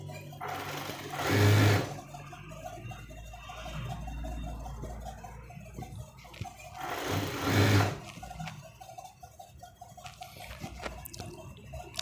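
Tailor's sewing machine stitching a coat, running in two loud bursts of rapid whirring separated by quieter mechanical ticking and handling noise, close by.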